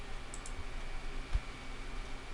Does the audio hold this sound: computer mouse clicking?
yes